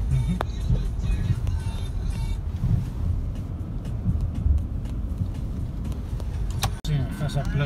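A lorry rumbles steadily along a road, a loud continuous engine drone with traffic noise, while a person talks over it.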